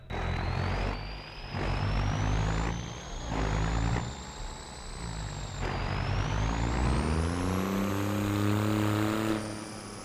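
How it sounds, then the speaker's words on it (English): A diesel truck in Farming Simulator 25, fitted for snow plowing, revs with a prominent rising and falling turbo whine over a deep engine rumble, the pitch climbing through gear changes, loud and continuous without speech. "diesel, but so hear that turbo whine?"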